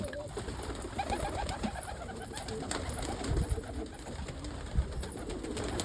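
An opal crested saddle pigeon cock and other pigeons coo and murmur close by in a loft, soft repeated cooing over rustling and scattered bumps, with no talk.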